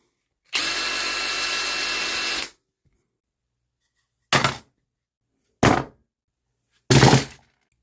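A Makita cordless drill whirs in one sustained burst of about two seconds, then gives three short separate spins, close and clear with no talking.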